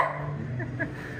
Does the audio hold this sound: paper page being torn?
no